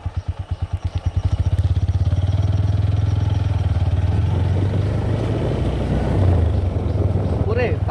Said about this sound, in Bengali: ওরে বাইকটা টান দিলে মনে হয় যেছি।